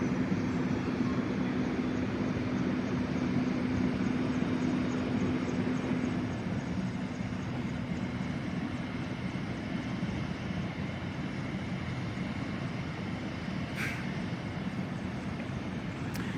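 A Care Flight 1 medical air ambulance helicopter roars steadily at a distance throughout after a motorcycle crash on Highway 95, a broad continuous rotor and engine noise with no talk.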